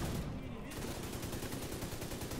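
Rapid gunfire from the video game Tom Clancy's The Division 2, a dense continuous rattle of shots running throughout at steady moderate loudness, with a voice talking faintly underneath.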